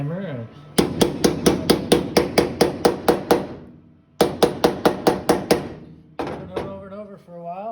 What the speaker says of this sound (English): I'm gonna do a little more hammering.